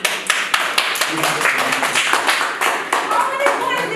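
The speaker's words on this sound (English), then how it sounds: "Now let us applaud." A classroom of students claps after a game, with brisk, fairly close applause from a small group that starts with sharp individual claps and settles into a steady patter.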